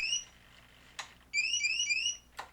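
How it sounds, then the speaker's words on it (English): Eagle Tree Alerter on a model aircraft sounding its alarm for a flight mode change, with sharp, bright warbling chirps in two quick bursts separated by short clicks, loud and close against near silence. "it's triggering the alarm for loiter"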